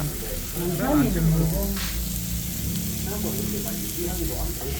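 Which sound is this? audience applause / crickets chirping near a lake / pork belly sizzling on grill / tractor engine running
pork belly sizzling on grill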